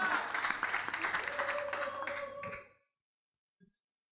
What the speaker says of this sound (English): A warm round of applause, please, for them.